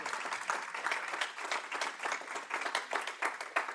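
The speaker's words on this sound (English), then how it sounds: "Let's give him a round of applause once again for that." A conference audience claps for a speaker after a session, a fairly quiet but lively patter of many hands with distinct individual claps standing out over about four seconds.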